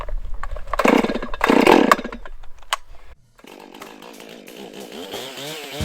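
A chainsaw being used to carve a pumpkin, with the saw starting up and revving loudly in two bursts before dropping to a steadier, lower running drone close by.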